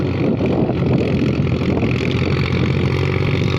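A tractor engine runs steadily while plowing stubble back into a wet rice field after harvest, a constant low rumbling drone close to the microphone with some wind buffeting and no break in the sound.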